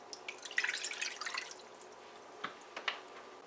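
Water splashes and trickles into a pot for boiling rice, with scattered drips and small splashes continuing afterward, fairly quiet and close.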